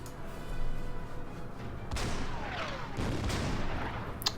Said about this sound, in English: Artillery fire on Aachen commences.